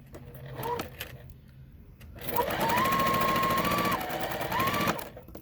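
A sewing machine stitches a quarter-inch seam on a quilt block. There is a brief stop-start burst first, then a loud, steady rapid whir of several seconds that winds down, heard close up with no talk.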